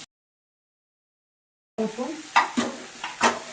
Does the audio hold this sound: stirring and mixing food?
yes